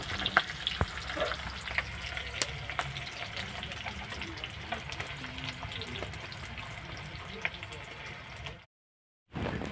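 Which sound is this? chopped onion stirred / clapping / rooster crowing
chopped onion stirred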